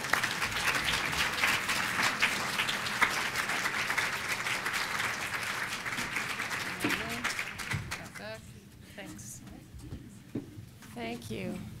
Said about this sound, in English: It's active applause.